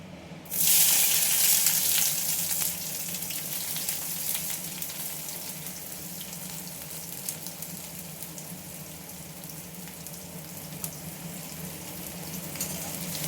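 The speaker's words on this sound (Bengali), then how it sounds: "তারপর এই পেঁয়াজ কুচিটা দিয়ে দিলাম।" Chopped onion dropped into hot oil in a kadai after a spice tempering, giving a loud burst of sizzling at the start that settles into a steady, fairly close frying hiss.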